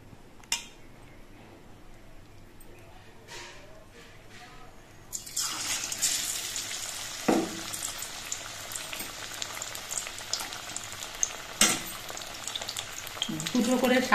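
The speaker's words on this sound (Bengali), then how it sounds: "এবার একটা করে শাপলার ভেলা নিয়ে আমি এই ব্যাটারের মধ্যে ডুবিয়ে দিয়ে ভেজে নেব।" Water lily stalk fritters dipped in batter go into hot oil: after a few quiet taps, a loud bubbling sizzle bursts in midway and keeps crackling steadily, with occasional clinks.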